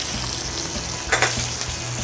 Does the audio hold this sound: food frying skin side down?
yes